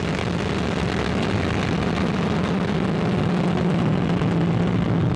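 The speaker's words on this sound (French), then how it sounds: "Allumage P80, décollage" Satellite launch rocket lifting off after P80 first-stage ignition: a loud, unbroken roaring rumble that holds steady throughout with no voices.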